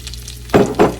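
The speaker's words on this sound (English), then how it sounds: "I'm melting the butter, the unsalted butter in the frying pan. Here we go. And now I'm going to add to that my 1 cup of plain panko breadcrumbs." Plain panko breadcrumbs hit melted unsalted butter in a frying pan, giving two quick, loud, close bursts of sizzle and stirring over a low hum.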